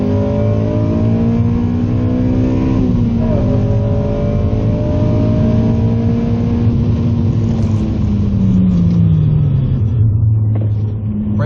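A 2007 Honda Civic Si engine pulls hard and loud, its rumbling drone climbing steadily through the revs with a brief dip at a shift, sustained and close from inside the car.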